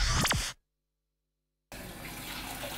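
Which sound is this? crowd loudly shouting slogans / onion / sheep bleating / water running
water running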